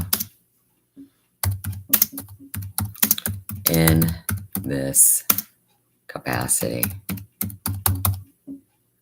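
Rapid clicking of typing on a computer keyboard, close and steady in bursts with short pauses, while a person talks over it.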